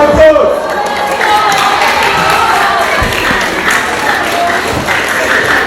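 A school audience applauds a student volunteer in a classroom or assembly hall, a steady wash of clapping with some cheering and chatter that stays loud and even throughout.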